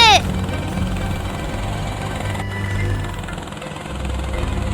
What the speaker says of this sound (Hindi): हेलीकॉप्टर तेज चला